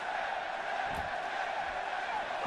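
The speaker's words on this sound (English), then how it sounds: "Listen to the crowd." Arena crowd in the WWE 2K17 wrestling game roars in a steady, dense wall of cheering that carries evenly throughout, with a brief dull thump partway through.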